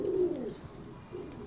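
Pigeons coo near a roost where a hen has laid eggs and two young chicks sit, a soft low throaty coo rising and falling, then another shorter coo a moment later, close and fairly quiet.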